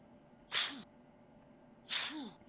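Two separate sneezes about a second and a half apart, each a sharp breathy burst followed by a short tail, fairly close but not loud, with quiet room tone between and no speech.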